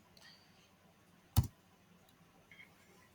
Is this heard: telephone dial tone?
no